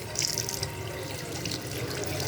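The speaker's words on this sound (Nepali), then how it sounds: "राम्रोसँग बन्द भएन धारा" Water keeps streaming from a tap that has not shut properly at a hand-washing spot in rainy Ghandruk, a steady close splashing rush into a basin with brief brighter spatters, no voices.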